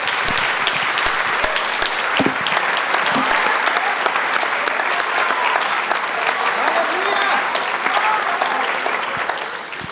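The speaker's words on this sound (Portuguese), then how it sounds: "Pode aplaudir a Jesus." A church congregation applauds in praise, a dense, steady wash of many hands clapping that fills the room and carries on throughout, with faint voices mixed into the crowd.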